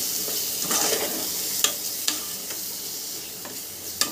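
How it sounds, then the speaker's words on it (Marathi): Chicken being stirred in a hot pan with coriander powder, turmeric, garam masala and salt, with a constant loud sizzle and a spoon knocking sharply against the pan every so often. "आता हे चांगलं मिक्स करून घेऊया"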